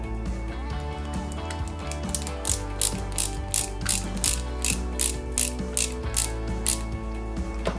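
Screwdriver turning a small screw into the intake manifold of a Lancia 037 scale model kit, a rapid series of crisp ratcheting clicks in a steady rhythm over a low continuous background hum.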